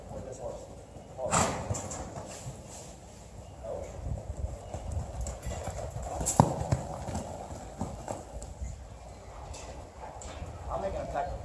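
Hooves of a horse in a round pen clop at a slow, irregular walking pace, moderately close, with a person talking over them and occasional sharper knocks.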